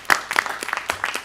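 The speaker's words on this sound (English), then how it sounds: "Big round of applause," Audience applause at a candidate forum, a short burst of close, uneven claps with a few sharp individual hits, no talking over it.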